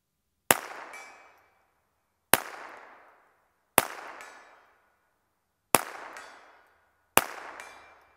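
Five loud, sharp gunshots from a High Standard Supermatic Trophy target pistol ring out at an outdoor range, spaced irregularly about one to two seconds apart, each cracking hard and then trailing off in a short echo.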